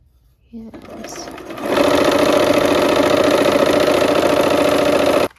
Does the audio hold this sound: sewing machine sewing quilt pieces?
yes